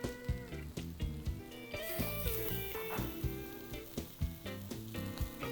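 Shrimp sizzle in a black skillet, a steady frying hiss broken by scraping stirs and light clinks of a utensil against the pan, close and moderately loud, with no speech.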